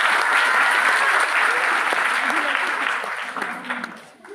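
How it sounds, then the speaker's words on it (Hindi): A crowd at a student theatre festival claps loudly and steadily, and the applause thins and fades out over the last second. "जोरदार तालियां"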